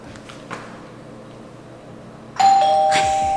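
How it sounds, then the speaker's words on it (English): In an empty Los Angeles apartment, after a quiet stretch with a faint knock, a bright electronic doorbell chime rings out loudly and lingers to the end. "we just rang this doorbell, and it sounds like a legit doorbell"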